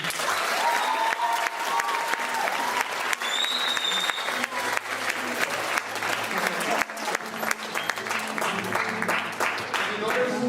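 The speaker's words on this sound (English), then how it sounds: "I want you to give a nice round of applause to all your teachers here." Sustained applause from a workshop audience for teachers at a mariachi session, a steady wash of clapping lasting about ten seconds with some crowd noise and a short tonal note mixed in.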